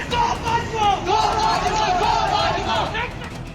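A large crowd of Pakistani protesters rallying against army chief General Bajwa roars in a continuous, loud wash of voices, with raised shouting rising and falling throughout.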